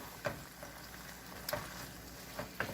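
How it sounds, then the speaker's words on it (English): Cream cheese melting for a dip, crackling in a pan with a faint, steady sizzle and a few soft clicks and scrapes. "getting that cream cheese melted"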